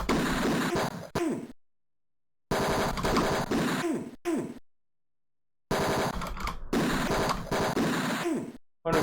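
Rapid machine-gun fire from the video game Tex Murphy: Mean Streets comes in three loud, dense bursts separated by abrupt silences, each burst ending in a short falling tail.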